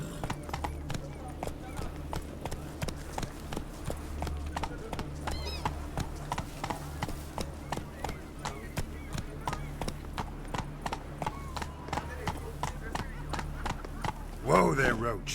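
Roach the horse gallops in The Witcher 3 video game, a steady rapid clip-clop of hooves running throughout with a brief snort near the end, under a voice talking.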